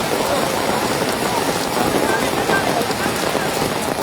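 Steady rain falling on outdoor surfaces during a local bullfight event, a dense continuous patter at even loudness with no pauses.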